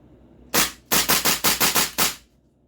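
A modified Tokyo Marui AKX airsoft AK fires a short burst, about seven sharp, evenly spaced cracks in quick succession, loud and close with no voices.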